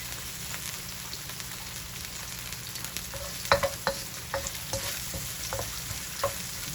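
Turmeric fries in a pan of oil for Jamaican turmeric rice, a soft steady sizzle with scattered clinks and scrapes of stirring, heard close and fairly quiet with no talking.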